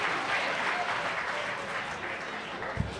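An audience at an independent film awards ceremony applauds, a dense steady clapping that carries on for the whole stretch with a faint voice briefly audible.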